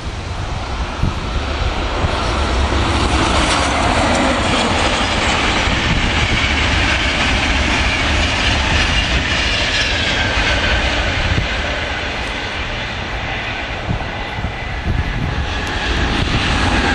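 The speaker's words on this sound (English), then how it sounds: "That's a Javelin, that's Hull Trains, runs from London King's Cross up to Hull." A Hull Trains Javelin passenger train on the London King's Cross to Hull route passes Werrington Junction, giving a loud, steady, close rumble and rush of noise that holds for the whole stretch with no talking.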